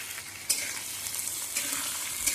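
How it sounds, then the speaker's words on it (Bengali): Garlic paste, ginger paste and chopped tomato are stirred together in a frying pan under a continuous sizzle, with scraping spatula strokes near the start and end of the short burst. "একে একে এর সাথে রসুন বাটা, আদা বাটা, টমেটো কুচি সব একসাথে দিয়ে নেড়ে চেড়ে"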